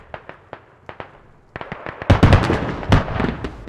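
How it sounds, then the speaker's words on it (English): Heavy mortar rounds land in a competitive Squad invasion match as a rapid series of sharp blasts, sparse at first and then a denser, louder cluster of booms. "heavy mortars are incoming"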